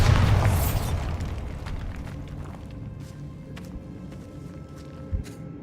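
A Bombarda spell explodes in Hogwarts Legacy, opening with a loud, deep blast that trails off into a rumbling decay, followed by quieter scattered clatter and a few soft steps.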